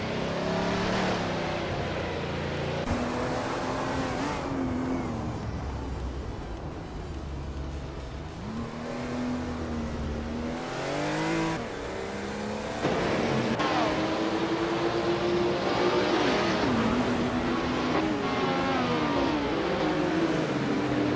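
Engines of race cars in a racing video game, among them a 1977 Porsche 936, whine and rev loudly and continuously, pitch climbing and dropping through gear changes, with several cars layered together and no talk.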